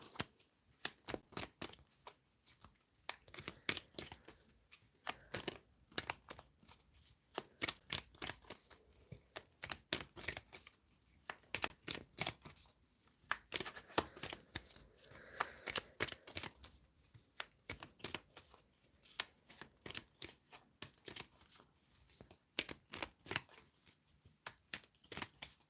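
Tarot cards being shuffled for a reading, with repeated crisp riffling bursts in an uneven rhythm, close and fairly loud, running for a long stretch with no talking.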